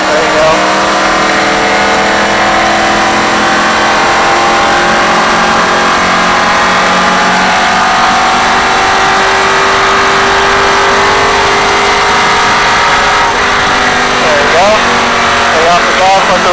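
Loud NASCAR race car engine heard from inside during a drive experience, holding a steady drone and then rising in pitch as the throttle is squeezed back on, with a voice talking over the engine.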